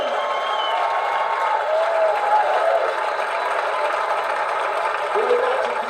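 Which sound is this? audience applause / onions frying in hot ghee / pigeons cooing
audience applause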